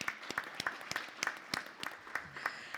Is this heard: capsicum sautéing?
no